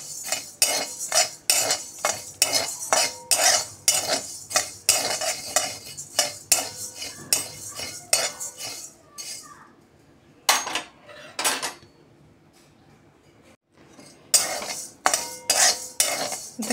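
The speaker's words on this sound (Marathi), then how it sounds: "धने गरम करून घेणार आहे। जास्त पण भाजणार नाही आपण धण्यांना" A metal spoon scrapes and clinks against a pan as coriander seeds are dry-roasted and stirred, close rapid strokes in bursts with a brief quiet pause partway through.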